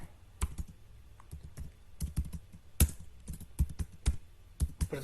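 Computer keyboard keys tapped in short irregular bursts as a name is entered, close and crisp with brief pauses between clusters of keystrokes, no voice over it.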